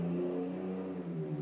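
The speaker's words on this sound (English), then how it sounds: "That car was loud." A loud car passes outside, its engine revving with a steady droning hum for a brief moment, heard alone with no voices.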